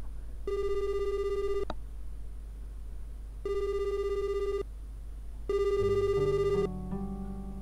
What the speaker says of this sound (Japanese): その日の夜、一本の電話がかかってきた。